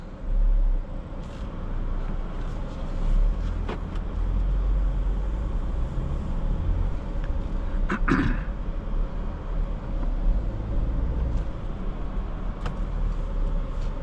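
A base 2024 Porsche Macan drives along with a steady low engine and road rumble heard from inside the cabin, continuous throughout with a few faint clicks and knocks.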